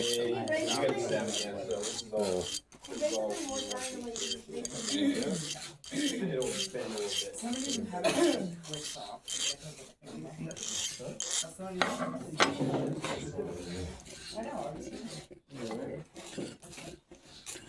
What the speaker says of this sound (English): doing it lightly, just let the file do the work